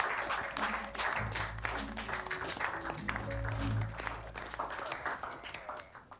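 A round of applause from a group of men at a retirement celebration, steady clapping sustained for several seconds before tapering off near the end, with low background murmur underneath.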